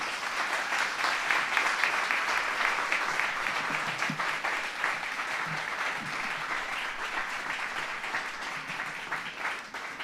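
An audience gives sustained applause after a talk on the state of the city, a broad steady wash of many hands clapping in a hall, even in loudness throughout with no speech on top.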